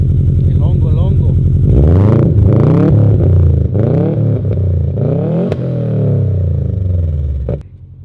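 Subaru STI fitted with an Invidia G200 exhaust revs repeatedly, a loud close deep rumble climbing and falling in several throttle blips over a steady idle, ending as the engine settles.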